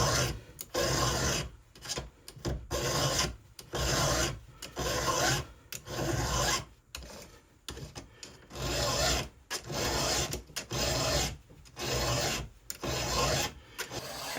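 Furred chainsaw file rasping across a chainsaw chain's cutters in steady, repeated strokes, each scrape close and loud, separated by brief pauses as the file lifts and returns.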